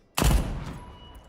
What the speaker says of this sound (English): I love the sound of this gun. That gunshot is so powerful.